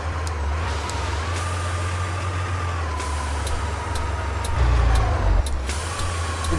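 A Kamaz 5410 truck engine in Euro Truck Simulator 2 drones at high revs while driving fast, a steady low roar with slight pitch shifts and a louder surge just before the end.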